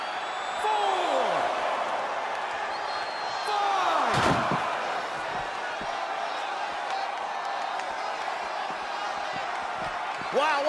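A heavy impact as a wrestler slams into the crowd barrier in the WWE 2K20 wrestling video game, a single sharp crash midway through, with arena crowd noise and swooshing effects around it.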